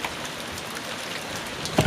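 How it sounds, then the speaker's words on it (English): Steady pouring rain on a hiking trail at Saddle Mountain, Oregon, a dense continuous hiss with no voices, close and even throughout. "It's slowed down, but it's pouring rain."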